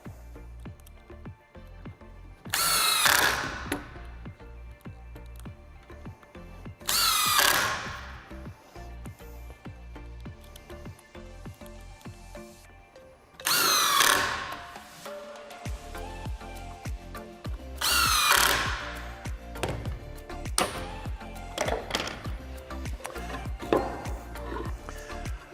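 A power drill drives screws while a base structure is assembled, four separate whirring bursts of a few seconds each, spaced apart, with quiet handling sounds in between.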